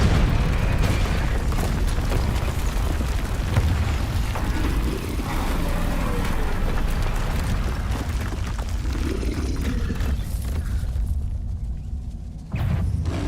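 Spell explosions from Confringo and Bombarda in Hogwarts Legacy during a troll fight: dense, continuous booming blasts and rumble with no pause, loud throughout and fading briefly near the end.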